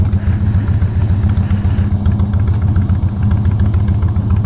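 A motorcycle with an 88 cubic inch motor idles and revs up close in a loud, continuous rumble with pulsing low throb and mechanical clatter.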